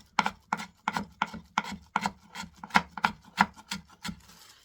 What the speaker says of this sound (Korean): 얇게 채를 쓰세요.